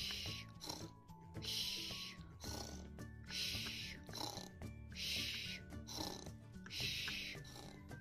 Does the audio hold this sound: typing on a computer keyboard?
no